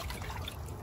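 Faint, steady trickling of water as a freshly gathered moon snail squeezes water out of its body, a soft continuous dribble with no talk.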